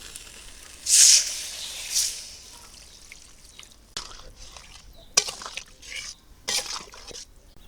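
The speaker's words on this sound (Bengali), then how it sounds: "এখন আমি একটু পানি দিয়ে দেই" Water poured into a hot pan of frying fish-curry spices and tomato, giving a soft hiss and sizzle in brief bursts with quieter crackling stretches between, heard close with no talk.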